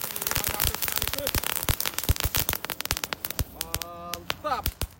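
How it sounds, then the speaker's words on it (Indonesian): Five packs of spinning ground firecrackers go off together in a rapid burst of sharp cracks and pops, dense and loud, with fizzing whistles and crackle in between. "Berhasil menyala semuanya. Mercon gangsing 5 pak sekaligus."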